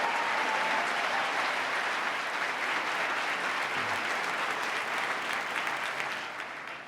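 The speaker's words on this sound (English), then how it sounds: "give him a round of applause for his good work" Applause from the audience at a 2018 State of the State address, a broad, loud wash of many hands clapping continuously before tapering slightly at the end.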